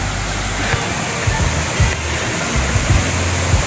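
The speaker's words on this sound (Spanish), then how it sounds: "la cascada número uno" Waterfall at La Danta in Antioquia, a loud, steady roar of falling water that fills the scene, with faint low thuds and rumbles beneath it and no clear talking.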